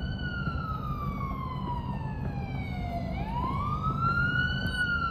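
Emergency vehicle siren in the police game Police Simulator: Patrol Officers, a loud steady electronic wail that glides down, then sweeps back up, over a constant low engine and traffic rumble.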